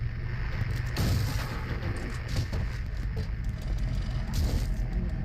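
Shotgun blasts in the survival horror game Silent Hill 3, heavy booming reports over a dense, continuous low rumble of game ambience, with a stronger burst near the start and another later on.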